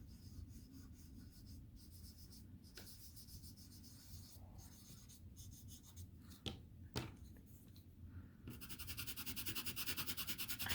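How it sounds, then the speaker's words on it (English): Soft, dry rubbing and scratching of Faber-Castell Pitt pastel against a palette comes in quiet, irregular strokes with brief pauses, then becomes a faster run of rhythmic scrubbing toward the end. "I actually don't mind the scratchiness on the palette as bad as the paper."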